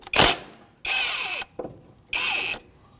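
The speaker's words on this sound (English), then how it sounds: "With a 14mm socket, remove the banjo bolt off of the old caliper." Power tool spinning a 14mm socket to remove the banjo bolt from the old front brake caliper of a 2014-2019 Toyota Corolla: three short close whirring bursts separated by pauses, with brief clicks between, no talking.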